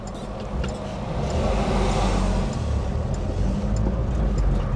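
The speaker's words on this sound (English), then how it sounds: "Enjoy. 4 o'clock traffic." Road traffic at four in the afternoon passes by, a steady broad rumble of car engines and tyres that swells slightly midway and holds, with no voices.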